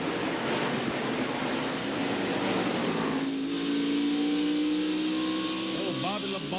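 A NASCAR stock car at the 1997 Exide NASCAR Select Batteries 400 pulling away from a pit stop, a loud engine roar that rises in pitch as it speeds off, heard beneath continuous commentary.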